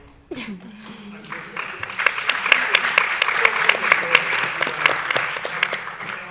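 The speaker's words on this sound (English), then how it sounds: "I applaud you." Audience applause at a documentary screening and panel discussion, building from a short voice at the start into a full, lively round of clapping with distinct sharp claps that carries on to the end.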